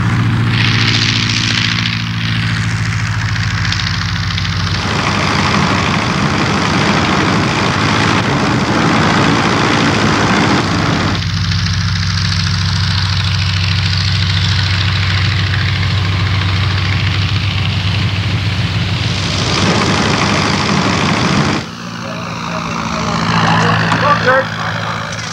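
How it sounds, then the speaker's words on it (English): An Avro Tutor biplane's Armstrong-Siddeley Lynx engine runs before takeoff, a loud, rough propeller drone with deep throbbing that holds steady, surges during long stretches and drops back near the end, while someone narrates over much of it. "The Tutor has warmed up its Armstrong-Siddeley Lynx engine and is at last ready for takeoff."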